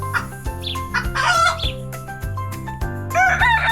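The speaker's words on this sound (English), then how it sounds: "Hen is another name for chicken." A hen on a farm clucks repeatedly and crows, loud and close, over a steady rhythmic musical backing with no talking.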